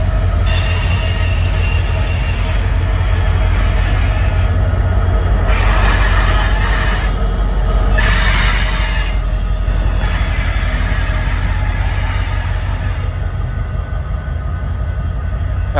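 A heavy local freight train rumbles steadily past close by, its low roar joined by metallic wheel squeals that rise and fall throughout.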